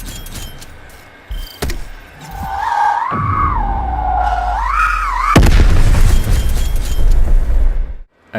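An M79 grenade launcher shot in Black Ops Cold War fires with a sharp report, followed by a rising whistling tone and then a loud booming explosion that rumbles before cutting off.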